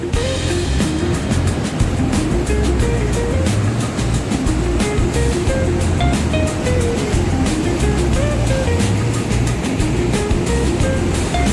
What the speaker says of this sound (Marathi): इथं इंद्रायणीचं पूल आहे। पाणी बघा किती जास्त आहे